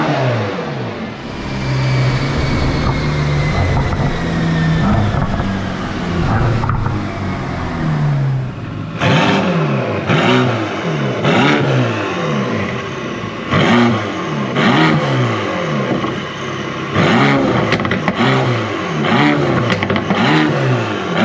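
Mercedes-AMG GT Black Series with OPUS downpipes and sport cats revs hard and close, a rising engine roar followed by a string of sharp blips and crackling throttle pulses, loud throughout with no talking.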